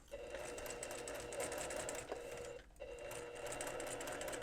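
Sewing machine running steadily while stitching elastic along the outer edge of fabric for hand warming inserts, a continuous close whir with one brief pause near the end.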